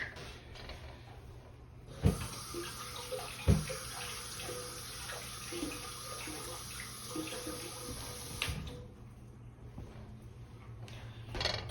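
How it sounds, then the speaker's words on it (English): Celery stalks rinsed under a running kitchen tap, a steady broadband water hiss starting abruptly and flowing for several seconds with a few clunks and splashes before cutting off, close and moderately loud. "we're just going to rinse them under some water"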